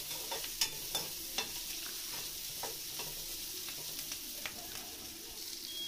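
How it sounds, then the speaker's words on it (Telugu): Onion pieces sautéing in hot oil for a dhaba-style paneer curry, with a steady soft sizzle throughout and a few light clicks of a spoon stirring the pan, close by and with no talk. "ముందుగా కట్ చేసుకున్నటువంటి ఆనియన్ ముక్కల్ని కూడా యాడ్ చేసేసుకున్నాను. ఇవి ఆయిల్లో కొంచెం మగ్గనివ్వాలండి కొంచెం సేపు."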